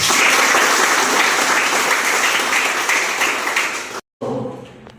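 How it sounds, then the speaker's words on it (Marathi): Training-session audience in Ahmednagar giving a hearty round of applause, with loud, steady clapping that fades and cuts off briefly near the end before a short resumption. "लाईट अप प्लस आणि डॉक्टर विली मानवकर त्यांना एकदा जोरदार टाळ्या वाजवतो"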